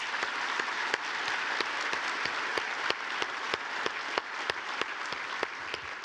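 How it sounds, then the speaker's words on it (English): Sustained applause from a seated audience at a Bowerman Presentation ceremony honoring Damon Martin, a steady dense patter of many hands with a few sharper individual claps standing out, continuing evenly without voices. "How about a round of applause for him?"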